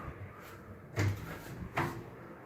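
A sliding wardrobe door rolls along an ALBATUR track system, giving two short rumbling bursts about a second apart over a quiet room background.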